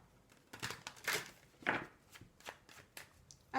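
A deck of tarot cards being cut and shuffled by hand in a close, quiet setting, giving a string of crisp papery riffles and slaps in uneven bursts with no talking.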